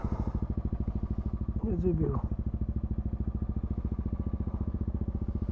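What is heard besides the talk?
two motorbikes cold starting and idling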